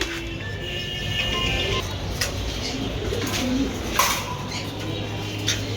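A pigeon held in the hand coos in low, soft bursts at a market stall selling breeding pairs, with faint bird calls and background noise around it.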